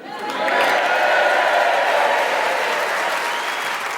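Warm Yorkshire theatre audience at the Harrogate Theatre in the spa town of Harrogate applauding steadily, a dense, loud wash of clapping that swells quickly and holds for several seconds with faint cheering mixed in.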